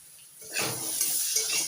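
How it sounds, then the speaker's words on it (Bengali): Potatoes and ripe jackfruit seeds frying in a pan with salt and turmeric, a quiet start that swells into a close, steady sizzle with light stirring scrapes. "আলুগুলো একটু ভেজে নিয়ে এবার দিয়ে দিচ্ছি পাকা কাঁঠালের বীজগুলো"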